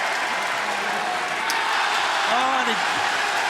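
Wrestling crowd cheers at an AEW Collision title match between Kenny Omega and MJF, a steady broad roar of the arena audience held throughout, with a commentator's voice talking over it.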